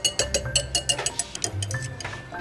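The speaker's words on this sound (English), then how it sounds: "Jonah's whisking those up for me" Egg yolks are whisked briskly in a bowl, the whisk clicking in a quick, even rhythm of light metallic taps close by, with no talk over them.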